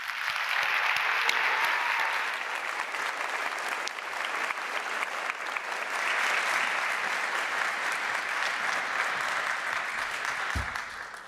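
Sustained applause from a large conference audience welcoming MIT President Sally Kornbluth to the stage, dense and steady clapping for about eleven seconds, with a faint thump near the end.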